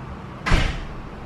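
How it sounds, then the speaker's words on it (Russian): A balcony door is pushed shut, making a single short thud with a brief whoosh against quiet room noise, and no one speaks. "Она даже двери закрывает на балкон."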